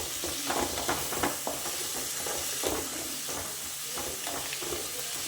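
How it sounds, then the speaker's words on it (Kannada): Masala frying in a pan for palak paneer, a steady hissing sizzle broken by rhythmic scrapes of a spoon stirring, close and moderately loud, no talking. "ಹಸಿ ವಾಸನೆ ಹೋಗೋವರೆಗೂ ಚೆನ್ನಾಗಿ ಈ ರೀತಿ ಫ್ರೈ ಮಾಡ್ಕೊಳ್ಬೇಕು"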